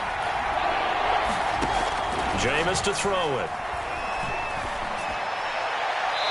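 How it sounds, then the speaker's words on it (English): A stadium crowd in a PS4 football video game keeps up a steady roar in the background while a commentator talks over it, with a brief swell of crowd noise in the middle. "Crowd getting in it a bit already."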